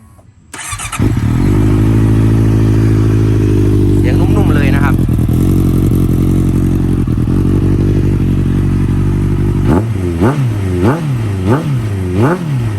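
A 2014 Honda CBR650F motorcycle with an Akrapovic exhaust cranks and fires up, settles into a loud, close idle with a brief rev, then gives a string of about five sharp, rhythmic throttle blips.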